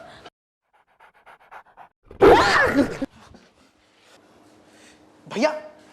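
A dog pants heavily in a close, loud burst of rapid breaths, then falls quiet, with a brief whine-like sound afterward and faint voices nearby.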